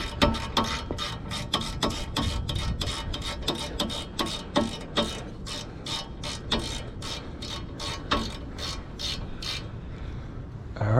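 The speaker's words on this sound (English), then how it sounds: "Now I can tighten it with the ratchet real fast." A hand ratchet clicks in quick bursts of rapid pawl ticks, close and crisp, while tightening a bolt during a front brake replacement on a 2013 Honda Accord Sport.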